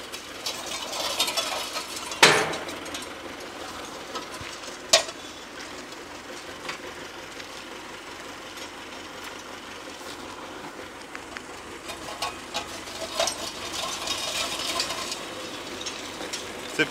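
An SZ-3.6 seed drill's mechanism turns over, a steady clicking, ratcheting gear rattle with a couple of sharp metallic knocks, moderately close and without talk.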